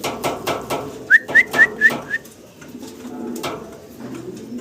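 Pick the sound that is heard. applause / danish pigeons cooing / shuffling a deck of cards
danish pigeons cooing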